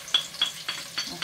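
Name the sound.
onion frying in hot oil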